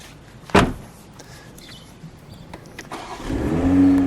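A 2021 Toyota Supra GR A91 Edition's door thumps shut once, followed after a quiet pause by the engine cranking and catching into a rising, steady idle, close by.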